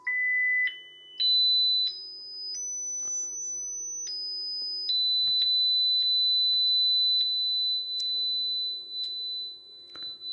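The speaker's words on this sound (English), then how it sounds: "Let's try some different frequencies." Pure sine test tones played through a homemade audio amplifier step upward in pitch, one after another, then drop and hold a steady high tone, with faint clicks between changes and a low hum underneath.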